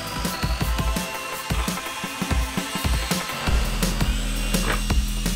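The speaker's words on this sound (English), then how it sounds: "Time to cut it out with the jigsaw the best I can" A jigsaw cuts through wood for a homemade toy AK-47, buzzing steadily and close by with rapid rhythmic chatter, alone with no talk.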